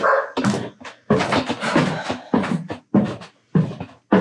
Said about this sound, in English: The dogs are mad because I didn't let them in yet.